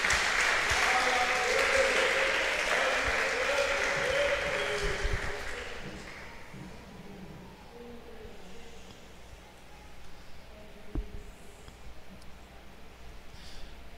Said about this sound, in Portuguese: Você pode dar uma salva de palmas para Deus aí por isso?